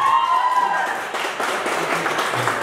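Audience applause at a 20-year school class reunion in Nukus, a steady patter of clapping hands rising after a tonal opening sound and continuing briefly, moderately close.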